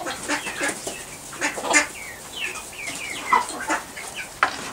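Hens in a shared farm community's coop cluck and chatter steadily at close to moderate range, overlapping calls with occasional wing flaps and a few sharper squawks, no talk.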